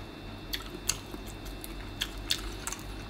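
Someone chews a crispy-skinned sausage at a Bangkok bakery, producing several sharp, close crunchy bites scattered irregularly over a quiet background, with no talking.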